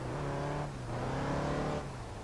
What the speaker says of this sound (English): All that revving was useless because it arrived so late.